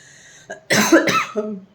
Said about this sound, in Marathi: मधून खोकला येतो आहे